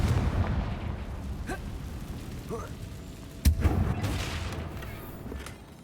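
A Confringo blasting spell goes off in Hogwarts Legacy, a sharp, loud explosive burst partway through amid ongoing low rumbling game ambience and a few smaller pops and whooshes.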